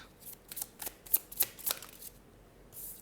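Tarot cards are handled and shuffled to draw one more card, giving quick close papery flicks and riffles that come in short bursts.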